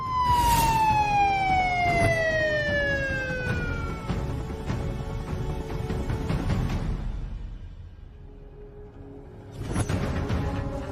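A police car siren wails loudly and continuously, its pitch sweeping up and down over a rumbling engine, then briefly dips before rising again near the end.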